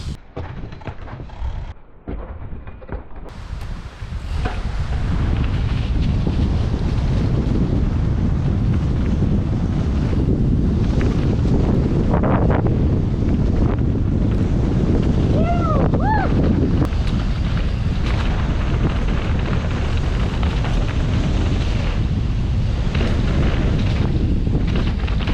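Strong wind gusting over a mountain bike trail at Hamsterley bike park, roaring loud and continuous against the microphone after a quieter start, with a brief voice or animal-like call partway through.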